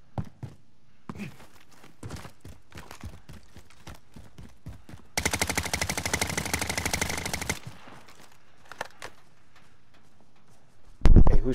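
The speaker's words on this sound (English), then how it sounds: "who's shooting at you?" Call of Duty: Modern Warfare gameplay with scattered footsteps and clicks, then a loud sustained burst of rapid automatic gunfire lasting a couple of seconds, more sporadic movement noise, and a sharp loud blast at the end.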